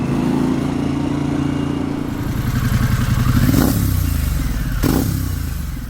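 Harley-Davidson Pan America motorcycle on an after-work ride, its engine rumbling steadily and loudly close by, rising twice in pitch as it accelerates, with wind noise over the drone.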